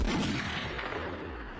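Heavy booming explosion with rumbling gunfire-like blasts, a dense sustained roar that fills the whole moment at a moderate distance, no voices.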